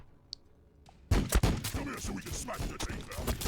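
Rapid gunfire bursts from a Sister of Battle unit in Warhammer 40,000: Battlesector, loud and dense after a brief quiet opening with a couple of faint clicks, continuing as an unbroken barrage of overlapping shots.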